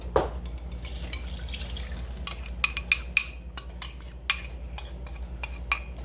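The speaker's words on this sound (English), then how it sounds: "I'm just going to throw it over the chicken and into the pot. It's probably going to sizzle." Sauce pours over chicken and sizzles in a hot pot with scattered metallic clinks of utensils over a low steady hum, close up.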